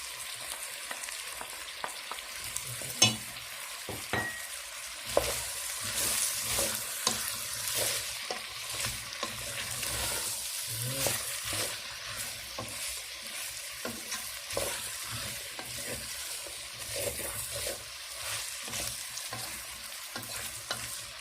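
Potatoes frying with onions in a pan for a Moroccan potato and chard dish, producing a continuous low sizzle with frequent small crackles and occasional stirring knocks, fairly quiet and close with no talk.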